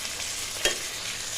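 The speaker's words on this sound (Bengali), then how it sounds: "এবার টমেটোটা ভালো করে ভেজে নেব যাতে নরম হয়ে যায়" Chopped tomato fries in a pan for chicken curry, a steady soft sizzle with one brief scrape of stirring partway through.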